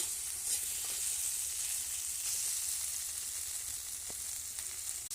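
Masala spices sizzle and fry steadily in hot oil for a taro stem and large prawn curry, a continuous close crackling hiss with occasional stirring clicks and no talking.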